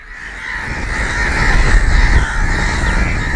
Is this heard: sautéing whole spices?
no